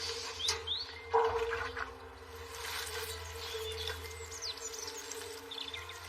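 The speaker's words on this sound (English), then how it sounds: "So what I'm going to do now is just water that." Water spraying steadily onto freshly levelled garden soil, a soft continuous hiss with faint birdsong outdoors and no talk.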